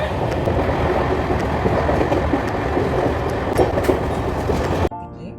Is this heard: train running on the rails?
yes